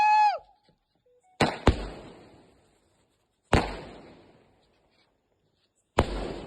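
Fireworks display: a rising whistle opens, then four loud, close booms arrive in spaced bursts, each followed by a long crackling, fizzing tail that fades into silence.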